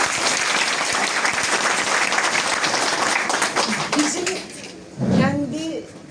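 Applause from an audience at a CHP political party event in Karasu, Sakarya, a dense steady clapping that runs for several seconds and then thins out, with voices breaking through near the end.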